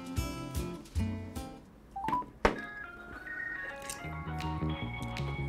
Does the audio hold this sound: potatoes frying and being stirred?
no